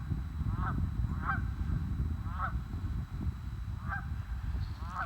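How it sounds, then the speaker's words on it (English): A family of geese honks in short, scattered calls at moderate distance in a state park, repeating every second or so over a steady low background rumble. "have a group of geese here."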